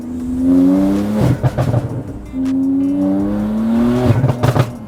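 A Porsche 991 Turbo S tuned to 685 hp accelerates hard with the top down. Two loud rising engine sweeps climb through the gears, and each pull ends in sharp crackles and pops on the shift.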